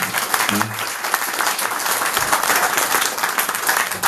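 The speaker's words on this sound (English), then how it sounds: "how about a huge round of applause for Richard, ladies and gentlemen" A club audience at a live music show gives a big round of applause, a loud, continuous roar of clapping with crowd noise throughout.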